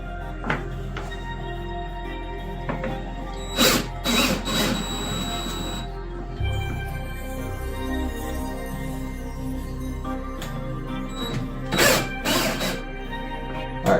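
Bolts being loosened with a hand tool on a car's rear, giving a few short bursts of ratcheting and metallic clicks against a steady low mechanical hum, fairly close and moderately loud.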